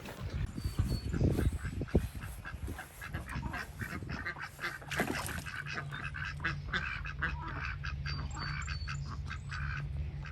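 Backyard ducks and chicks call out: a burst of close quacks at the start, then softer, steady quacking and peeping with no one speaking.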